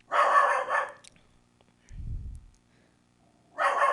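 A dog barks in two loud, close bursts at a delivery person, with a short low whimper or growl between them.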